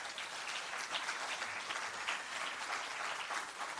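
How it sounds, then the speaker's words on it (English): Audience at a public sector debate competition launch breaks into sustained applause, a dense steady wash of clapping from a large crowd filling the room throughout. "Give yourselves a round of applause."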